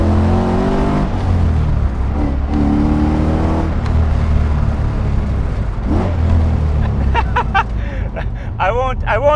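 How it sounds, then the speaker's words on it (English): An LS-swapped Nissan 240SX S13 coupe with an L33 V8 revs up loudly, then drops off under heavy engine braking, its harmonic drone rising and falling close by while a driver talks over it. "Engine braking's pretty heavy."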